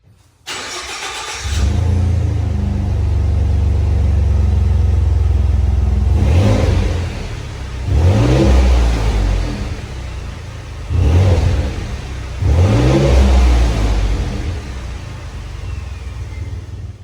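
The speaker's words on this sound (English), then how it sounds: "So we're going to go ahead and start the vehicle." Ford F-150 EcoBoost with a muffler delete and open exhaust cutout valve, warm start: starter crank, then a loud idle rumble broken by three sharp revs that swell and fall back, heard up close with no talk.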